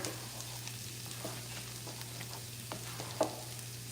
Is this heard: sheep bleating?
no